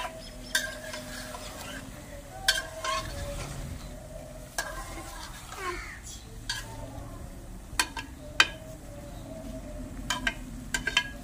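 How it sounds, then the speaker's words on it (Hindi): Kaleji being roasted with ginger, garlic and tomato in a kadhai, with steady sizzling and repeated scraping stirs and metal clinks of a spoon against the pan, close and clear throughout. "अभी थोड़ी देर इनको बुनाई करते हैं"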